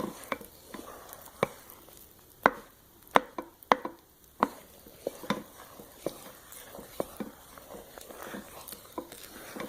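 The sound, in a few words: stirring thick chunky soap batter while making salt bar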